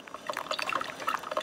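A Mr. Coffee drip coffee maker brewing, with light trickling and dripping of hot water into the pot, small irregular splashes and gurgles, close and fairly quiet.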